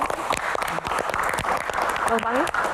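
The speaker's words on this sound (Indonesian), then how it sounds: "Wow, tepuk tangan." Audience applause during a stage Q&A session, steady and fairly loud throughout, with voices talking over the clapping.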